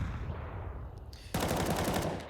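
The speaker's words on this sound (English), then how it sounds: "That's the sound of shots being fired." Burst of rapid gunfire in the video game Counter-Strike during a tournament grand final, with a dense run of shots starting suddenly partway through over a steady background hum.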